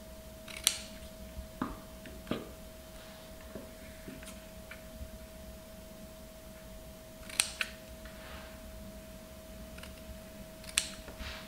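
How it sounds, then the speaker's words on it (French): Scissors cut small triangles into folded paper at each crease, producing a few short, quiet snips spaced apart over a faint background hum. "on va venir couper un triangle ici, à chaque pli"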